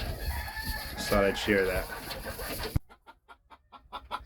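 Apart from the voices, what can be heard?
black roundhead game hens clucking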